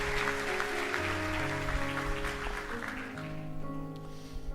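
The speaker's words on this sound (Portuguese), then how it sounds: "Dê o melhor aplauso que você pode dar." A church congregation claps through a Sunday morning service as sustained music plays underneath, the applause thinning and fading toward the end.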